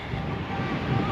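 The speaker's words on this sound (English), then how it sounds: "Excuse the fan, it's going to be very windy because it's friggin' hot" Steady broadband whooshing of an electric fan blowing close to the microphone, constant and fairly loud.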